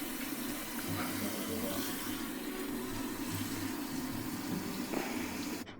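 Water pours steadily into the rinse tank of a Costway twin tub washer, a constant close rushing hiss that continues without a break until it stops abruptly at the end.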